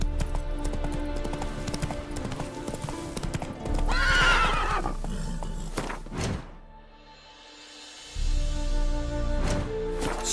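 The horse Roach moves in The Witcher 3: Wild Hunt, with hooves clip-clopping close by, a loud whinny partway through, and the footfalls briefly fading before resuming, the game's background sound running underneath.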